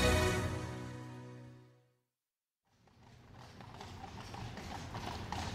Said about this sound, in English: At the moment, I'm on a horse-drawn omnibus taking tourists around London.